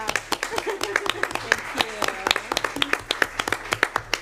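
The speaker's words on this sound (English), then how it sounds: "I think she deserves a round of applause" A small group claps at a board information session, sparse, irregular sharp hand claps near the microphone, with people talking over them.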